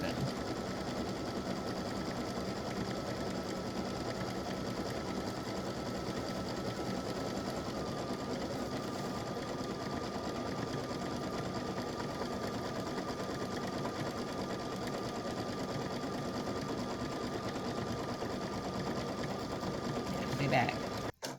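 An embroidery machine runs a steady, continuous satin stitch around a patriotic ribbon applique, its fast even whirring and rattle holding close and constant, cutting off abruptly at the end.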